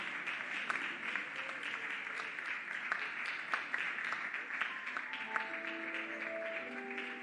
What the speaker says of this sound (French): sous vos applaudissements, j'invite son Excellence, Madame Catherine Kachunga Foura